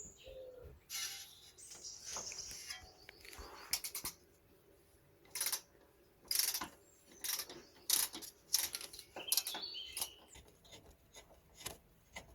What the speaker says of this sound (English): we're gonna undo the second bolt.